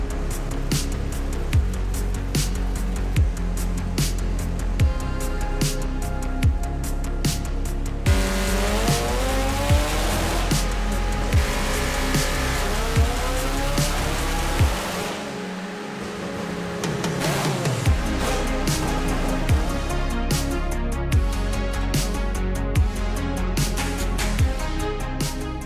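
A Toyota Supra tuned toward a Formula 1-style sound revs hard at high RPM on a dyno, a loud sustained engine wail with rising and falling pitch sweeps and a brief drop in the middle, no talk.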